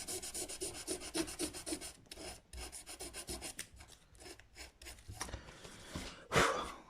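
Frets on a Stratocaster-style guitar neck being polished by hand, a steady close rasping rub in repeated back-and-forth strokes, ending with a sharper scrape.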